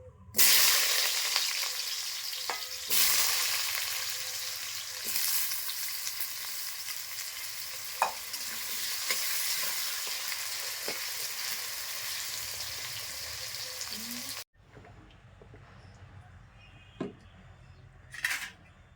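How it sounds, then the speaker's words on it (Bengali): Potatoes fry in oil in a wok, giving a loud, steady sizzle with occasional clinks of a utensil against the pan; the sizzle drops to a quieter crackle near the end. "এখন আমি ওই আলুটা ভেজে নিচ্ছি, তেল দিচ্ছি কড়াইতে।"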